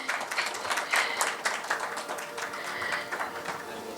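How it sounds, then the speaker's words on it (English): Audience applause at a healthcare conference and awards event, a moderate, somewhat sparse patter of many hands clapping that continues evenly, a little distant, with no voices over it. "please clap for them."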